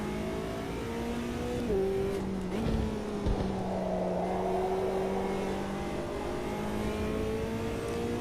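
A race car engine in the sim racing game Automobilista 2 drones steadily up close, its pitch dipping on downshifts under braking and then climbing smoothly as it accelerates, with no talk.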